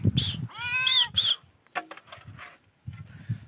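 A farm cat meows several times near a dish of freshly drawn milk set out for it on a village farm; two drawn-out meows come close together, then fainter calls with soft rustling between.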